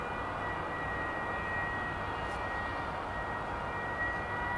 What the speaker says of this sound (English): Is that a FedEx plane?